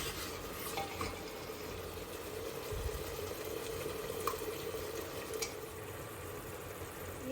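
Masala roasts in ghee in a pan, giving a soft, low, continuous sizzle with faint stirring scrapes, quiet and steady throughout.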